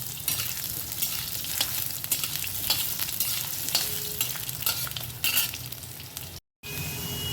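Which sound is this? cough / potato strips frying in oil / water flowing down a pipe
potato strips frying in oil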